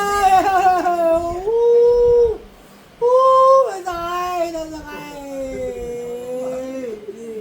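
Drawn-out howling wail with whimpering, sliding slides in pitch, voiced like a dog's spirit during a faith-healing session; loud and close, with a brief pause midway before the howl resumes and trails into lower moans.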